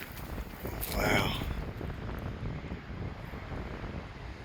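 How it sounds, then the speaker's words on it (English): Gusting wind buffets the microphone on a mountain trail near Mount Saint Helens, a rough, rumbling roar that swells and then settles into a steady blustery noise. "There, I was talking about that wind."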